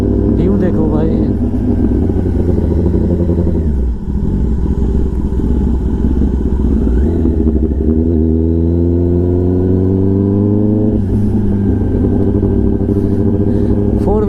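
Kawasaki ZX-10R motorcycle fitted with an SC Project exhaust, loud and close, with a steady engine drone that dips briefly and then rises in revs. Talk runs over the engine throughout.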